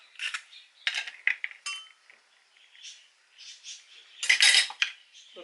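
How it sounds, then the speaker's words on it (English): An egg is cracked into a bowl while making a sorrel and beetroot fruit cake batter with sugar, heard as several sharp, close clinks and taps in uneven bursts with quiet gaps between, no talking. "Break another egg."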